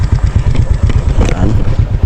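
A motorcycle rides along a city boulevard, its engine chugging loudly and steadily close by, a pulsing low rumble through the whole stretch.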